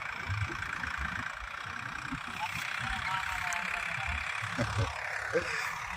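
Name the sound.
farm tractor engine moving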